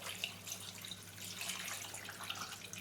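Water runs steadily into a cooking pot on a kitchen stove, a faint hissing splash with no break and no voices.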